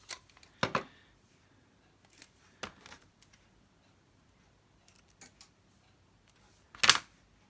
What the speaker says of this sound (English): I'm going to add a little bit of tape down the sides as well.